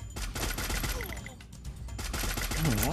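Rapid gunfire bursts crackle in the Free Fire video game, loud and dense. A voice is faintly present in the background.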